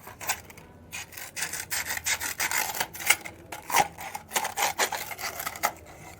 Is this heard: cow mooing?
no